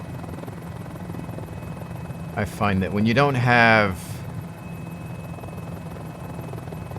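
A Mini-500 helicopter in Microsoft Flight Simulator drones with a steady, even rotor and engine hum from start to finish, while someone talks briefly over it midway.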